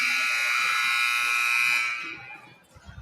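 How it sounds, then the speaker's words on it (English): A loud volleyball scoreboard buzzer at a middle school gym blares as one sustained, harsh electronic tone for about two seconds, then cuts off, leaving faint gym noise and distant voices. "I'm going to plug my ears because this buzzer is going to be loud."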